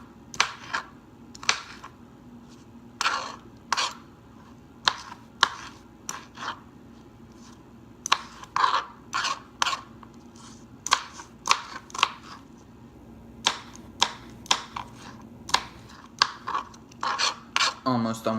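A knife chopping an onion on a cutting board for Texas chili, with clusters of crisp, close cuts in irregular bursts separated by short quiet pauses.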